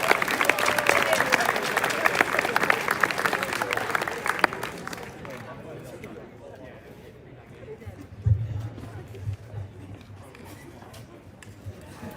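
Audience at a school athletic celebration clapping loudly for winter sports teams, dense applause for about four seconds that then fades away, leaving room noise and brief bumps.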